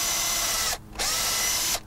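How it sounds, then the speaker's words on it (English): Power drill pre-drilling mounting holes for an RV backup camera, two loud sustained whirring runs separated by a brief pause, close and with no talk. "I'm going to go ahead and pre-drill these with a little bit bigger hole."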